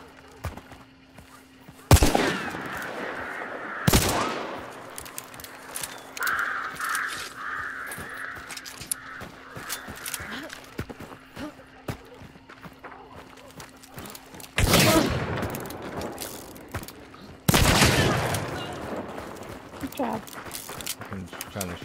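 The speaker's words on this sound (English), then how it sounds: "Shotgun" Shotgun blasts in the Hunt: Showdown video game, a few loud sharp booms spaced seconds apart, with continuous game ambience and a player talking between shots.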